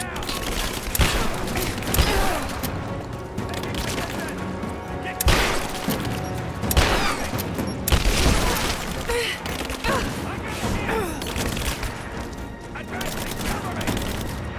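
Video game combat with frequent bursts of gunfire and heavy impacts over a dense, continuous battle mix, loud and close, with shouted voices in the action.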